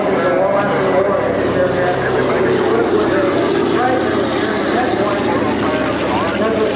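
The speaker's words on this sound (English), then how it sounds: "Just going to fly the aircraft a little bit, show you" A propeller aircraft flies low at a 1994 airshow in Frederick, Maryland, its loud, steady engine drone filling the scene continuously while a voice talks over it.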